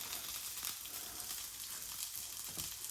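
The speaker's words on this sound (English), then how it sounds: "While the kimchi is frying," Kimchi fries in a pan, giving a steady, soft hiss and crackle of sizzling oil throughout, with no talking over it.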